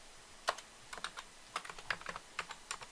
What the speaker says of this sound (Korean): 다시 ctor 탭 눌러서 엔터가 안 되네요.